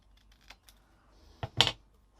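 Scissors trimming off a piece of paper or cardstock at a stamping craft table: a faint tick or two, then a couple of close, sharp crisp snips near the end.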